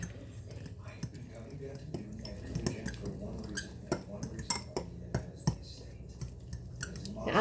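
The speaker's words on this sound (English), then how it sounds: "Stir that up." Utensil stirring shredded cheese chaffle batter in a bowl, a run of light clinks and scrapes of irregular rhythm, close and fairly quiet, with faint voice in the background.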